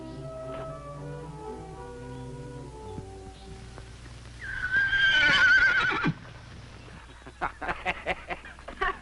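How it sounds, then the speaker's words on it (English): A horse, Fury, in a 1956 TV western, gives one loud, close whinny lasting over a second in mid-scene. Soft background music plays under it, and a few sharp hoof-like knocks follow near the end. "That horse of yours."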